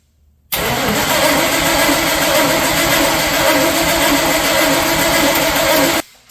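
A 1965 Ford Galaxie fitted with a swapped LQ4 6.0L LS V8 fires up after brief cranking, then runs steadily at a loud, rough idle close by for several seconds before shutting off.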